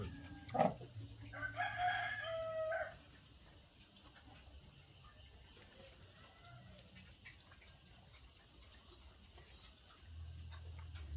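Rooster crowing among chickens in rural Bicol, Philippines, one clear crow near the start over a faint constant insect hum, with soft clucks and quiet background sounds afterward.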